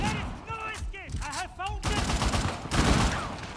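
Gunfire in Uncharted: The Lost Legacy, rapid bursts of shots in dense volleys that fill the second half. Voices shout and talk over the first half.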